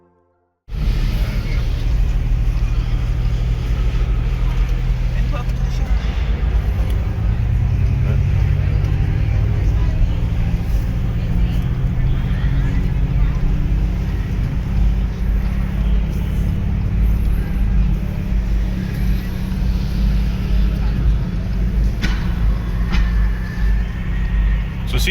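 A Dodge Charger with the Hurricane inline-six engine drives on a test run, a loud steady low drone and road rumble inside the cabin with a slowly rising engine note, continuous after an abrupt start.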